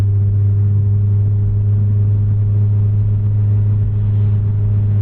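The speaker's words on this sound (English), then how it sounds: "it's just droning right now" A 2000s 8th-gen Honda Civic Si with a 3-inch full race catback exhaust drones steadily while driving uphill in fifth gear, a loud, constant low-pitched hum with a smooth rumble and no breaks.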